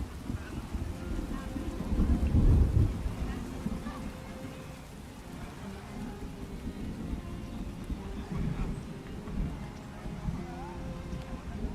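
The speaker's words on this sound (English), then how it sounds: "More big rain." Rain with a low thunder rumble in the city-building game Farthest Frontier, steady hiss of rainfall throughout with a deeper roll swelling early on, while someone talks over it.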